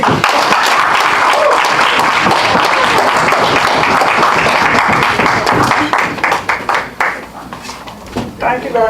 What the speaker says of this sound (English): Join me as I give her a round of applause.